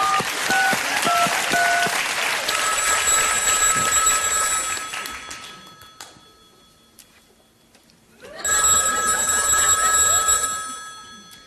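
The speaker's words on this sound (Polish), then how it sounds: "Telefon dzwoni." A telephone bell rings in a Polish comedy sketch about reserving tickets by phone, in two loud ringing bursts separated by a quiet gap of several seconds.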